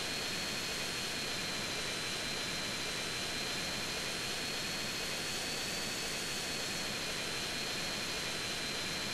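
An airplane's jet engine roars in GTA San Andreas as a constant, dense whine with a steady high tone and no pauses, loud and close.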